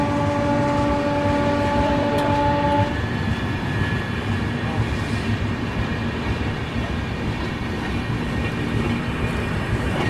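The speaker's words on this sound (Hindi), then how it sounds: "यहाँ राजधानी ओवरटेक कर रही है पातालकोट एक्सप्रेस को" Rajdhani Express overtaking the Patalkot Express heard from on board: a loud, steady rumble of passing coaches and wheels, with a long sustained train horn tone through the first three seconds.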